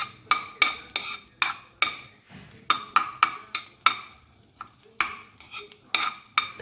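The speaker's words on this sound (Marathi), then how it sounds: "आता आपण फक्त थोडेसे याच्यामध्ये बारीक चिरलेले जे लसूण आहे ते परतून घेऊ कच्चेपणा जाण्यासाठी" Chopped garlic sautéed in ghee in a pan, with a spoon repeatedly scraping and clinking against the metal at a steady rhythm over a soft sizzle, close and without speech.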